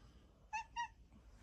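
A cat gives two short, soft meows in quick succession, close but quiet, in an otherwise still indoor room.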